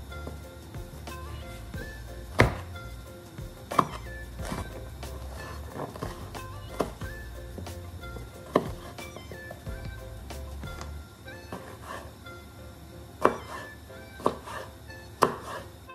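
Peppers and onions being chopped on a board, irregular knife taps close by, some sharper louder strikes among softer ones, over low kitchen background.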